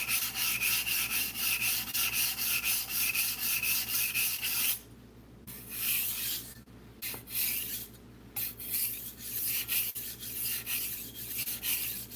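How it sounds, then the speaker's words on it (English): A kitchen knife sharpened on a stone, making continuous close rasping strokes, then a pause and shorter, irregular scraping passes with brief breaks. "I just sharpen my knives until they slice better."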